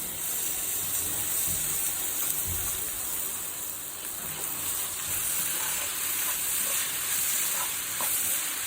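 Boiled prawns cooking in masala curry over a low flame, a steady close sizzle with soft stirring knocks running throughout.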